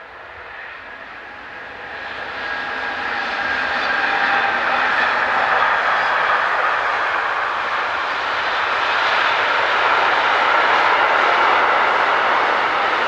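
Class 189 electric locomotive ES64F4039 hauling a southbound intermodal train on a European line on a May evening, a broad, steady rolling roar that swells over the first few seconds and then holds loud and close.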